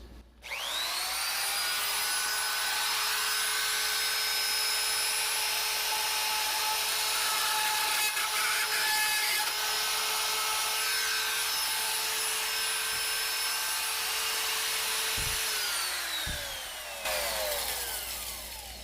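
A rotary tool with a small bit spinning at high speed, cutting during a plumbing leak repair, makes a steady high-pitched whine that holds for about fifteen seconds before winding down and cutting out.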